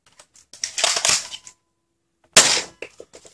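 Two sharp mechanical bursts from an Adventure Force Pro toy blaster, each a loud crack with rattling clicks, separated by about a second of silence, close and with no talk.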